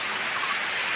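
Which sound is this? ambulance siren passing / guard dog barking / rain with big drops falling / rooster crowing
rain with big drops falling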